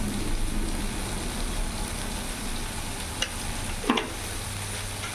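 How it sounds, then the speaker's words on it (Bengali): Masala spices sautéed and stirred in a pan for a pabda fish curry, giving a steady close sizzle and frying hiss with soft scraping stir strokes and a couple of brief clinks, no talking. "ভালো করে মশলাটা আমি কষিয়ে নেব"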